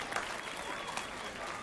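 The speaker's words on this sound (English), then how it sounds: "Oh, the slow clap." Video game crowd from The Witcher 3: Wild Hunt breaks into applause, a dense burst of clapping that stays fairly even, with voices mixed in.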